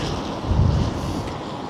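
Broad, rushing wind noise in Blackpool buffets the microphone steadily, with a low rumble underneath and no voices.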